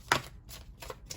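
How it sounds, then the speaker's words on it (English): A tarot card deck being shuffled, with a few soft, papery riffling bursts spaced out over a second, close and quiet with no talking. "Just shuffle up real quick."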